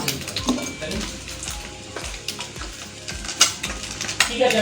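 Eggs fry in a pan with a steady close sizzle, broken by clinks of a utensil against the pan as it stirs, with no talk.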